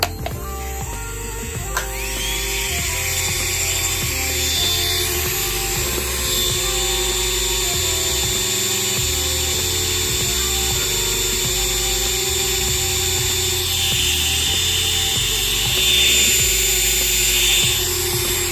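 Two electric nail drills whine together on high speed, a steady loud motorized hum with sharp high-pitched tones holding throughout, no talking.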